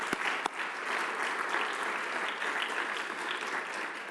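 An audience at an international conference on Mediterranean food applauds, a dense, steady wash of clapping from many hands at moderate distance, with no talking over it.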